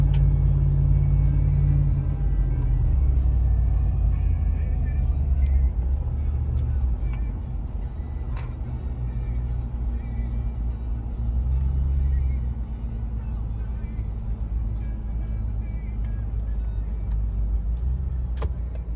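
A 2004 Lexus GX470 truck cruises on the highway, its steady low road rumble and engine drone heard from inside the cabin throughout, with no talking.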